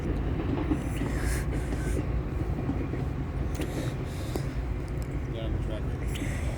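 A Metra commuter train moving through Western Ave station, a continuous broad rumble of wheels and cars with faint rail clatter, fairly close and steady, with people talking over it.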